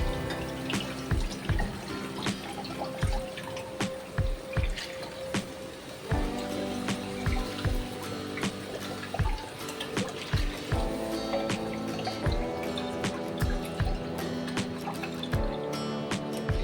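Water poured into a curry pan on the stove for a North Indian dish, a continuous splashing trickle with irregular drips and clinks over about seventeen seconds, close and without speech.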